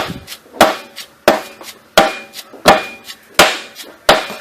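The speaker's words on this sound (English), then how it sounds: "I just tap it in with a dead blow" Six solid, evenly spaced knocks from a dead blow hammer tapping a part into a Chrysler 2.7L V6 engine, close by, each a sharp thud with a short ring, roughly two thirds of a second apart.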